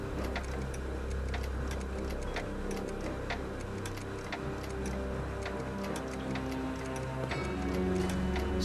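Steady clock ticking in the Back to the Future adventure game, Citizen Brown episode, a regular tick-tock pulse running the whole time over a dense, busy background of game music and ambience.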